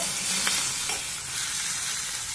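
A single medium tomato frying in a pan for an egg masala curry, a dense steady sizzle with soft scraping stir strokes.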